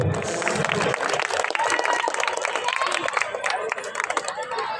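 An audience at a primary school gold cup football tournament ceremony applauds the finalist teams, dense sustained clapping with crowd noise and a voice speaking over it.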